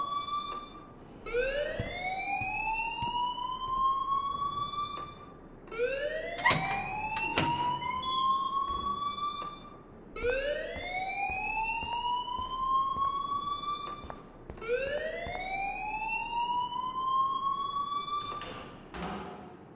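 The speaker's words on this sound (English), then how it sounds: "please turn off that alarm since that's your job" Electronic alarm sounding in the video game Life is Strange: four loud rising sweeps with bright harmonics, each about five seconds long and repeating steadily, plus a few dull thumps and no talking.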